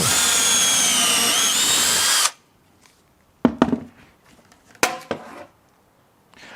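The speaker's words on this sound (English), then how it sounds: "Let's see if I can still drill a hole." A drill whirs loudly and steadily for about two seconds while drilling a pocket hole in wood, then stops, followed by a few sharp knocks and clatters of wood.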